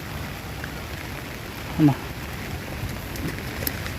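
Steady rain falls outdoors in Bangalore near a lake, a soft even patter and hiss throughout, with one brief voice calling out midway.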